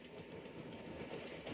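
The Sialkot Express rolls away from a dead stop toward the station, a low steady rumble of rail wheels and carriages heard faintly from on board, with no talking.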